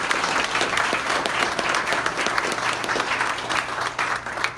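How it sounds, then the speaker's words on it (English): Audience at an Eastern Shore meet-and-greet applauding, a dense continuous clapping from a roomful of people, steady and fairly loud throughout. "So can I give my team a round of applause too"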